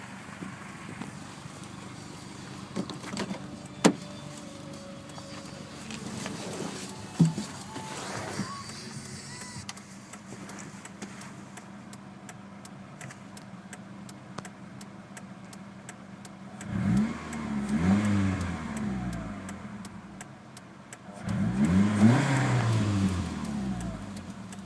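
A 2003 Mitsubishi Eclipse RS engine runs at a steady idle, then revs up twice in loud, rising bursts toward the end, each one falling back to idle.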